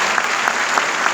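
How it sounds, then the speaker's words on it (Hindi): Audience applause at an indoor company product-details event, a dense steady clapping wash with a few louder claps standing out, heard alone without talk. "तालियों को बचा के रखिए, आगे बहुत जरूरत पड़ने वाली है।"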